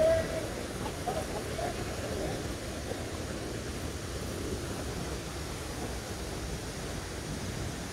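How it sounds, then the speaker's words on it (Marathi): Thoseghar waterfall seen from below, its strong flow making a steady, broad roar of rushing water that stays even and moderately faint throughout, with no voices. "आवाज येत जाऊ शकतो तुम्हाला फक्त की एवढा बेकार फ्लो आहे पाण्याला"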